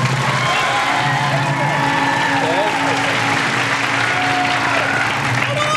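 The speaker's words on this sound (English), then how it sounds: "by applause." Studio audience on a late-night talk show applauding to vote for a parrot: dense, loud, sustained clapping with cheering and whoops mixed in, filling the whole stretch.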